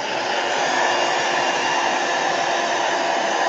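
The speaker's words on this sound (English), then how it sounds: "Suppose I could do a heat gun from far away." Heat gun blowing hot air over a gelli plate print to dry it, a steady broadband whoosh that holds evenly from start to finish without pause.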